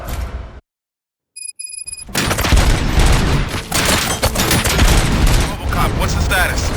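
A brief silence, then sustained rapid gunfire erupts in the video game RoboCop: Rogue City, dense bursts of shots and booms continuing loudly to the end.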